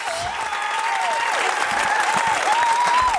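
An audience at a hip-hop talk with Roxanne Shanté keeps up loud, sustained clapping, while a high whistle or cheering tone wavers above the applause throughout.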